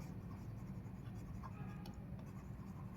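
Pen scratching across paper while working a Class 8 maths combinations problem, faint soft strokes in short bursts over a low steady room hum, with no talking.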